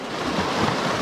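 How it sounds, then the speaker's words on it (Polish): Ocean surf rolls continuously onto an Icelandic shore in winter, a steady loud wash of breaking waves mixed with wind buffeting the microphone, with no voices. "będą nam utrudniały fale"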